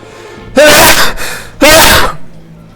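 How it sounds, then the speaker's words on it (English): A video game character sneezes: a loud, close burst with a sharp intake, followed by a second similar burst after a brief pause. "I want to sneeze."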